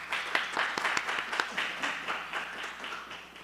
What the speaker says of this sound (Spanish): Recibámosle, por favor, con un fuerte aplauso.